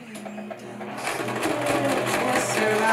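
A sewing machine stitches a fabric face mask, its motor and needle humming in a steady, close rhythm that builds slightly in speed and loudness, after a few moments of quieter handling.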